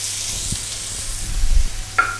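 Onion and peppers frying in a pan, a soft steady sizzle close by with a couple of light stirring knocks, no one speaking.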